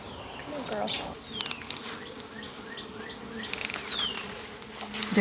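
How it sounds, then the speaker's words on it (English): Many honey bees buzz around an open hive during a hive check, a constant close drone with individual bees whining past, and faint background sounds. "There is a lot of bees."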